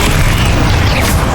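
A Confringo explosive spell goes off in Hogwarts Legacy, giving a loud, dense blast of rumbling boom and crackle that fills the whole brief moment at close range.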